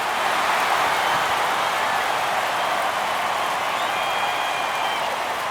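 A home stadium crowd in MLB The Show 24 roars after a home run in a League Championship Series postseason game, a steady wash of cheering and applause that holds at an even level throughout.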